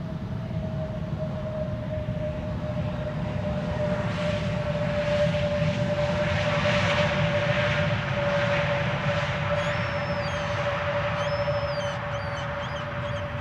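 A JetBlue airliner at Schiphol Airport drones steadily with a broad, constant engine roar and a sustained whine throughout, fairly loud and unbroken, with no talk.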